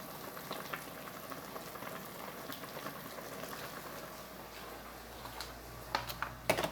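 Vegetables simmer in red tomato sauce in a pot, a soft continuous bubbling and crackle with a few light ticks near the end, close and quiet with no voices.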